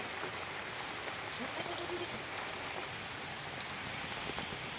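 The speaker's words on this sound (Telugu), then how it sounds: "ఇంక వర్షం ఎప్పుడు తగదు ఇంకా అలాగే ఉంది" Steady rain pattering on a tiled roof, a dense even hiss with occasional louder drips, no voices.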